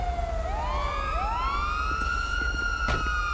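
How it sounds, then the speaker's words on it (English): A police car siren in a GTA V police patrol mod game: a wailing tone sweeps up and holds, then a second siren layers in, loud and steady over a low engine drone. "let's go ahead and get some of these sirens turned off."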